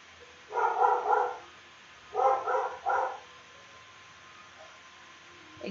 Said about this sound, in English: Stop barking at people just walking down the street!